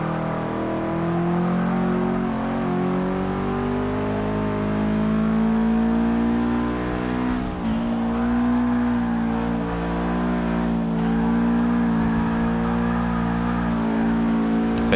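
A car driving and revving in Forza Motorsport 6, a sustained, loud engine drone whose pitch climbs through the gears, with brief dips at shifts and a steady howl throughout, no talk over it.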